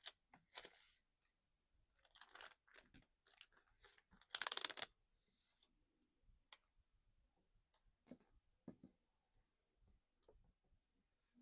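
Scissors cutting paper for a planner page, a few quiet snips and crisp slicing sounds in short bursts, with one louder longer cut near the middle and sparse faint clicks afterward.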